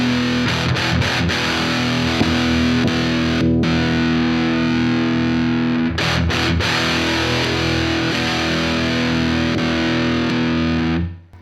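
Electric guitar played through a Boss DS-1 distortion pedal, a 1983 unit compared against a 1979 one, giving a loud, continuous fuzzy distorted tone with sustained chords and a few brief breaks, heard alone until it cuts off at the end.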